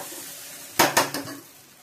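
Bottle gourd (dondakaya) and bengal gram flour frying in a pan, with three quick scraping stirs of a utensil against the metal over a faint sizzle.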